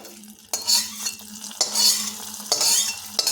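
Fried broken cashews are stirred into sweet potato (ranga alu) payesh with a spoon in a pot. Three distinct scraping strokes each start with a small knock, close and clear, with a light sizzle and no talking.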